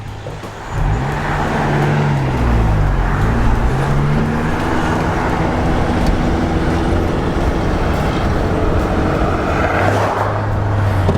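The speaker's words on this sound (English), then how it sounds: "I really want to hear the motor tonight on this car" Mitsubishi Eclipse with 80,000 miles and a reported major problem, its engine droning loudly from the open window as it pulls away, pitch rising and settling into a steady cruise under road noise.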